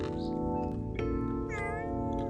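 A cat meows insistently, a drawn-out tonal cry that bends in pitch, close by over a dense steady background.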